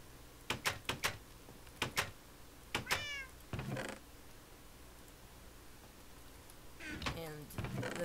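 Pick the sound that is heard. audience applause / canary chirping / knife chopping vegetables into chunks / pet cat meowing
pet cat meowing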